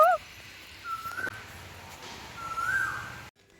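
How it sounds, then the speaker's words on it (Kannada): A cuckoo calls on a quiet morning walk, giving a few clear, whistled notes at moderate distance over soft outdoor background noise. "ಕೋಗಿಲೆ ಎಷ್ಟು ಚೆನ್ನಾಗಿ ಕೂಗ್ತಾ ಇರುತ್ತೆ ಗೊತ್ತಾ?"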